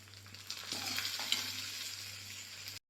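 A fried onion and curry leaf tempering hits a drumstick and mango curry, a brief swelling sizzle that fades within a couple of seconds before cutting off, with a low steady hum beneath.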